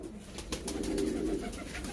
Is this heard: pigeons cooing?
yes